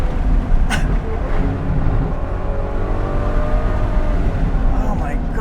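A Ferrari FF V12 drives past on a narrow road, its engine a continuous loud roar with pitch shifting as it goes by, over constant background rumble.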